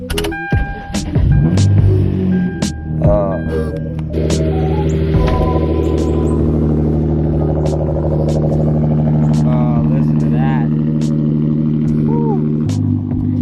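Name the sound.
car engine starting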